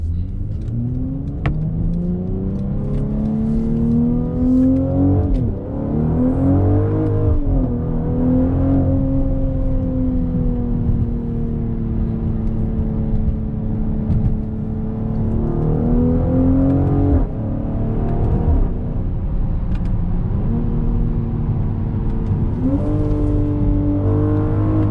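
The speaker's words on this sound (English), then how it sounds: "Once you put it in Sport Plus, the exhaust valves actually open up." A 2021 Mercedes-Benz GLC 43 AMG SUV in Sport Plus mode with exhaust valves open, its engine note rising and falling through repeated revving and gear shifts, heard steadily from inside during driving, with no talking.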